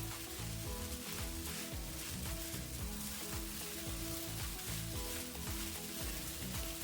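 Sabudana khichdi being stirred with fried peanut powder in a hot pan, a steady sizzle with rhythmic scraping strokes of the spoon, close and even, no voices.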